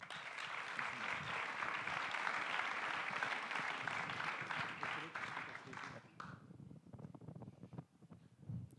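Applause from an audience at a French oath-taking ceremony for new professionals, dense and sustained for about six seconds, then thinning into scattered claps before a voice begins speaking.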